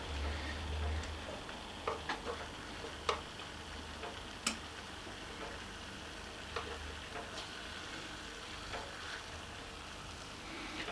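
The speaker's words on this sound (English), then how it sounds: "It's starting to sizzle nicely." Faint, steady sizzling of bacon frying in a Ninja air fryer, with occasional small pops and ticks, quiet and continuous with no talking.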